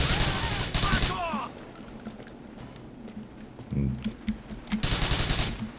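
Gunfire in the video game GTA 4 comes as dense bursts of rapid shots at the start and again at the end, with quieter scattered pops and a low thud in between.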